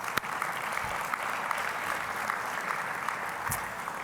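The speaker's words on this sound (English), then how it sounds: "a round of applause." A banquet crowd at a political convention applauds with a dense, even wash of clapping that runs steadily throughout, heard from a moderate distance with no talk over it.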